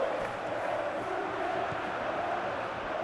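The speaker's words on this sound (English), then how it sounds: "Well, the crowd clearly like what they just saw." Stadium crowd in a PES 2021 football match simulation, a steady broad roar of thousands of fans cheering and murmuring that carries evenly with no single voice standing out.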